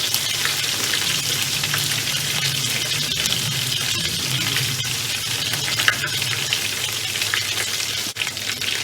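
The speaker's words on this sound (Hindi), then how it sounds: "यह सर अदरक लहसुन जब हमारा भून जाएगा तो हरी मिर्च को हमने इसमें 4 स्लाइस में करके वो भी डाल" Ginger, garlic, onion and green chillies fry in a pan with a steady, close, loud sizzle throughout, occasional stirring clinks and no talk.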